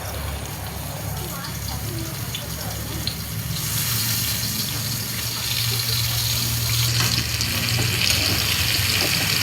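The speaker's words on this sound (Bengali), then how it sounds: "এখন বেগুনটা ফ্রাই করে নেব।" Eggplant slices coated in turmeric and salt frying in hot oil, a steady loud hiss and sizzle that swells toward the end, with some washing-water-like noise mixed in.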